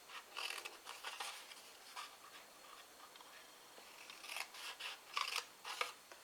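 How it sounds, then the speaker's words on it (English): Scissors cutting card down to a score line for place-setting favours, giving quiet, close snips and crisp slicing strokes in uneven clusters, with a short pause in the middle. "We're going to cut down to the second score line on all of these."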